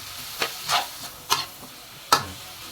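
Meat for igado sizzling in a pan while being stirred, a low steady fry with a few distinct scraping strokes of the utensil, close and moderately quiet.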